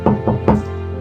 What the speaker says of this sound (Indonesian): terdengar pintu kamarnya diketuk